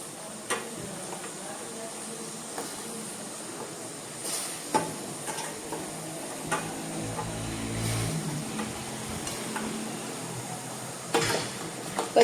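Tomatoes fry and are stirred in a pan for restaurant-style pav bhaji, giving a steady close sizzle broken by occasional scraping knocks of the spoon.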